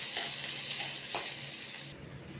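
Onion sautéing in hot oil with mustard seeds and dried red chillies, a steady crackling sizzle with a few soft stirring scrapes, close up, until the hiss drops abruptly near the end.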